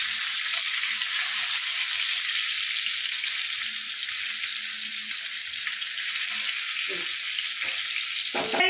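Sardines frying in oil in a pan, a steady loud hiss and crackle that runs without a break, close up, with a couple of brief stirring or turning knocks near the end.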